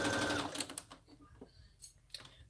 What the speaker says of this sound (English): as soon as I finish sewing these seams, I'ma hop off of here too.